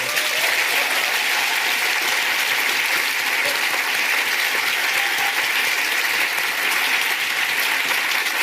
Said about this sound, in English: Massive round of applause as they're leaving the stage.